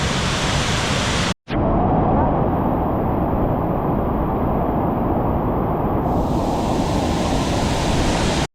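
Abbey Falls in Madikeri in the monsoon gives a loud, dense roar of rushing water that is broken once by a short gap, then continues as a steady close-up rumble with wind buffeting.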